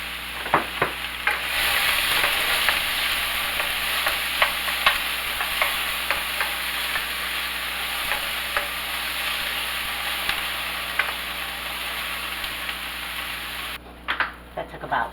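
Food sizzles steadily in a pan with repeated scraping taps of a utensil stirring through it, close and continuous, while the cook prepares Mexican dirty rice; the frying cuts out briefly near the end.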